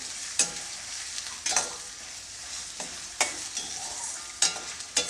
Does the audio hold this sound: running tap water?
no